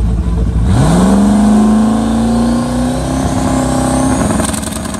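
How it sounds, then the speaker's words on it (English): Engine of a car running Holley EFI revs hard, its rising roar flattening out and bogging as it loses power under load, loud and close, with crackling pops near the end. "you can hear my car kind of load down, kind of lose power when I pull it too fast"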